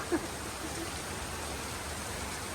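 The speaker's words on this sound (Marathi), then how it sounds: "तुफान पाऊस पडतोय" Heavy rain pours steadily in a steady hiss, with a brief faint knock near the start.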